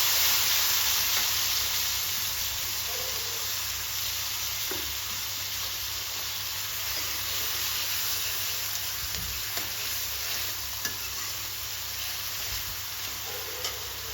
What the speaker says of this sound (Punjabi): ਸਾਰਾ ਤੜਕਾ ਆਪਣਾ ਬਹੁਤ ਸੋਹਣਾ ਭੁੱਜ ਗਿਆ ਵਾ